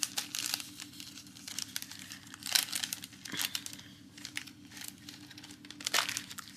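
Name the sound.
tape runner applying tape to paper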